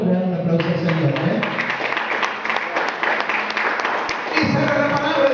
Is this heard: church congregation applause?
yes